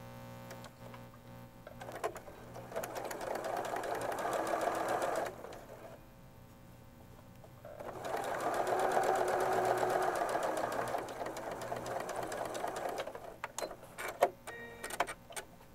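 A domestic sewing machine stitches pieced quilt fabric in two steady whirring runs, each several seconds long, with a short pause between and light clicks and handling noises at the end.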